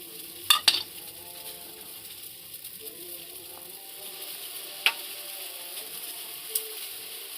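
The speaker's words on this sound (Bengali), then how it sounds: "সুজির আগে আমি যে চিলি ফ্লেক্স আর কারি পাতা রেখেছিলাম সেইগুলোকে আমি এখন দিয়ে দেব জলের মধ্যে দিয়ে আমি এটাকে ভালো করে নাড়াতে থাকবো" Chili flakes and curry leaves are stirred into water in a pan, producing soft, sparse scraping and a few light utensil clinks over a quiet background.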